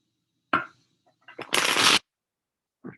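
Tarot cards are shuffled in a few quick bursts, a short riffle followed by a longer papery flutter. Quiet pauses separate the bursts.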